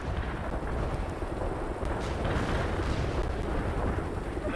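Carpet bombing by Tu-95 bombers in the World in Conflict strategy game, a continuous, dense rumble of overlapping explosions, loud and sustained without pause.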